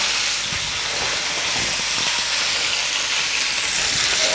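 Sausages sizzle and spit in their own juice in a pan, a steady close hiss of frying with soft pops, continuous and fairly loud with no voices.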